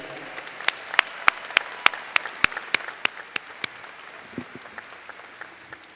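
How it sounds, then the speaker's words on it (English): Scattered, fairly sparse hand claps from a college commencement audience at Westfield State, applauding faculty and librarians: distinct individual claps that peak early and then thin out and fade. "if you would join me in a big hand of applause for the faculty and librarians of Westfield State"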